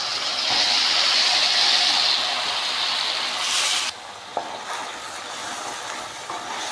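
Chopped tomatoes hit a pan of fried onions with a loud, steady hiss of frying that drops and settles partway through, with no talking.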